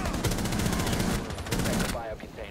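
Sustained rapid automatic gunfire in the Rainbow Six video game, loud and continuous for about two seconds before cutting off, with a voice briefly audible at the end.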